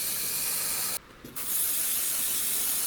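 An Iwata Revolution 0.3 mm airbrush sprays paint onto a Trumpeter KV-2 tank model, giving a steady close hiss that cuts out briefly for a moment before resuming.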